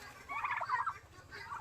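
Turkeys gobble on a turkey farm in Joynagar, South 24 Parganas, where about a hundred large turkeys are kept; two rattling gobble bursts sound close and clear over a low background hum, with no talking.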